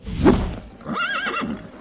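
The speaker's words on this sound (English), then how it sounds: "We don't have Clydesdales, but we do have a horse." A horse in a film scene lets out a loud, close whinny that rises and wavers over about a second, preceded by a short snort or hoof sound.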